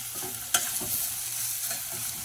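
Corn chowder being stirred in a pot for a vegetarian recipe gives a steady scraping, sloshing texture over a low simmering hiss, with one sharp utensil knock near the start and no talking.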